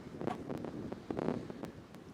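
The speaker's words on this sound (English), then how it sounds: "The wind is crazy." Gusty wind buffeting a microphone, low rumbling bursts that swell and fade over a couple of seconds, with brief sharp crackles.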